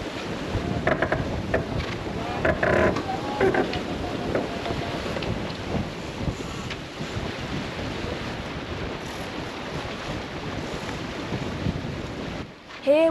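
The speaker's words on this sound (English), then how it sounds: "It's quite gusty around the castle, so our Sam was working really hard on that" Gusty wind roars continuously over a racing sailboat near a castle, buffeting the microphone with heavy low rumble and rushing spray, steady and close throughout with brief rattles toward the end.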